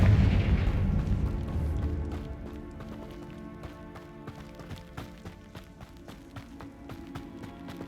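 A Confringo spell detonates in Hogwarts Legacy with a heavy, loud boom that fades over a couple of seconds, followed by a run of quick crackling impacts and clatter.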